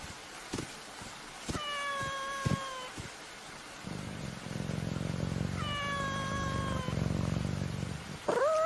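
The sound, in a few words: cat meowing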